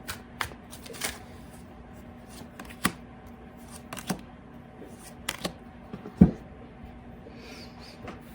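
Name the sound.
shuffling tarot cards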